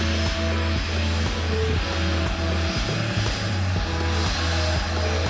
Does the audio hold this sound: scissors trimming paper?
no